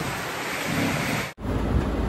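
Rain falls steadily at an outdoor farm in Olongapo, a dense continuous hiss with a brief dropout partway through, with no voices.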